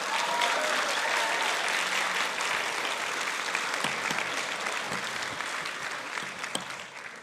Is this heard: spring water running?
no